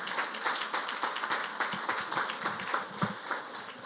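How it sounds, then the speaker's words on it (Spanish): A church congregation claps together during a Spanish-language sermon, a dense, even patter of many hands that stays moderately loud and continuous for the whole stretch, with no voices on top. "Dale un aplauso al Señor."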